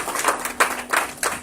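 A church congregation claps in a Sunday service celebration, four distinct bursts of hand claps spaced roughly a third of a second apart, close and moderately loud with no voices over them.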